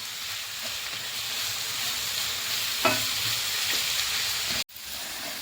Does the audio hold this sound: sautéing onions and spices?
yes